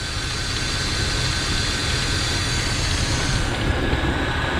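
A 2006 Dodge Ram 1500 TRX4 4x4 with a 4.7 liter V8 Magnum engine idles with a slight vibration and shake, a loud, steady, close-up drone with a constant rumble and no voices.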